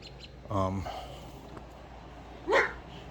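A dog barks near a garage during a car show walkaround: two short separate barks about two seconds apart, moderately loud, with a voice around them.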